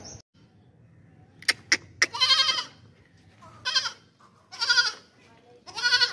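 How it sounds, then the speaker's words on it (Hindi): A Beetal goat in a livestock sale pen bleats several times in loud, wavering calls with pauses between them, after a few sharp clicks and a faint engine-like hum underneath. "बहुत ही ज़बरदस्त बीतल बकरी है"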